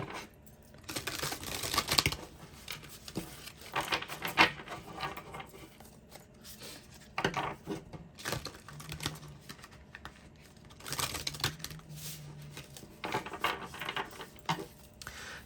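Oracle cards being shuffled and drawn during a tarot reading, a run of soft papery riffles and taps in bursts with brief pauses, close and fairly quiet.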